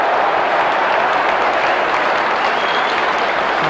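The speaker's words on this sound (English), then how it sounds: "An all-round applause for endeavour as much as anything there." A football stadium crowd at a 1997 West Ham United versus Wrexham match applauds in a sustained, loud, even wash of clapping with no talk over it.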